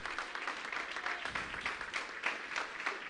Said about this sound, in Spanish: vamos, aplauda fuerte.